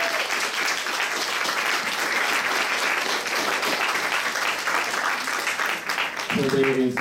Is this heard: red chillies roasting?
no